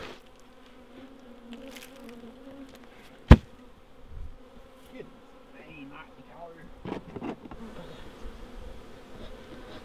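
Bees from a feral colony buzz steadily around a hive in a sweat box, a soft continuous hum with a sharp click partway through and some faint rustling toward the end.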